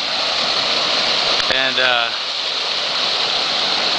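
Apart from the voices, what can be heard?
flooded creek rushing like a raging river after a storm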